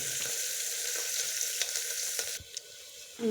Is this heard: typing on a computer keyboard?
no